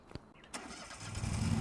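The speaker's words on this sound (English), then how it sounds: "Let's go and get our tractor out." In Farming Simulator 25, a tractor engine cranks with a couple of short clicks, then catches and settles into a steady idle that grows slightly louder toward the end.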